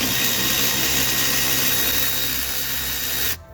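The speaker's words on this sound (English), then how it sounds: "we're going to take these lower bolts loose, which will also probably require a little extra pressure." A power tool whirs continuously, loud and close, while lower EGR valve bolts are loosened on a Ford F150, cutting off abruptly near the end.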